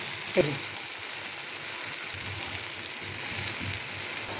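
Mashed vegetables hit spiced masala in a wok for pav bhaji, giving a steady, soft sizzle and hiss with a brief clatter near the start.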